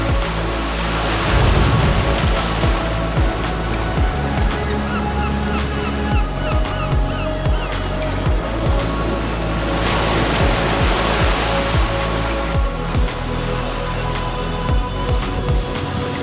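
Ocean water surges and crashes into Thor's Well, a natural rock hole on a rugged coast, a loud continuous roar of surf and churning water with swelling waves, heard alone without voices.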